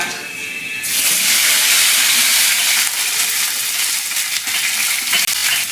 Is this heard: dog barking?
no